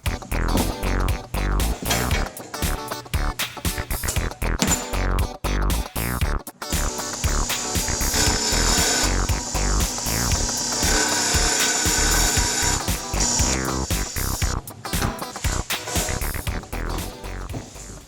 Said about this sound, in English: let's make a brake line flare without Catastrophe this time